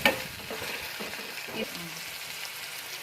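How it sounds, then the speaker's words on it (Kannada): Two small chopped tomatoes go into a hot pan for dal, sizzling and crackling loudly at first, then frying steadily with stirring scrapes close by. "ಹಾಗೆ ಇಲ್ಲಿ ನಾನು ಎರಡು ಟೊಮೊಟೊನ ಸಣ್ಣದಾಗಿ ಹೆಚ್ಚಿಟ್ಕೊಂಡಿದ್ನಲ್ವ ಅದನ್ನ ಹಾಕೋತಾ ಇದ್ದೀನಿ"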